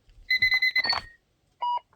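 Short electronic beeping from a pager: a quick run of chirping tones, a pause, then one more brief beep, fairly quiet and alone.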